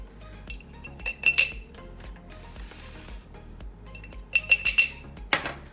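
Metal spoon clinking against a bowl as tablespoons of hemp seeds are added, two bright bursts of rapid clinks separated by quieter handling and a soft scrape, fairly close.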